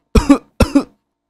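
A person coughs twice in quick succession, each cough a short double burst, close and clear against silence, with a quiet pause after.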